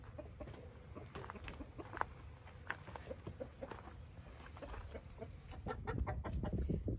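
Chickens cluck steadily at a backyard coop with a dust-bathing area, a dense overlapping stream of short calls from several birds, growing fuller and louder toward the end.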